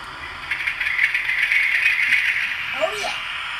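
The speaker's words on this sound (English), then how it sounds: "let's try firing up number 50026, Indomitable, Class 50 diesel" A sound-equipped OO gauge Class 50 diesel model locomotive, 50026 Indomitable, starts up with a steady engine hum and rattle, fairly close and unbroken for several seconds.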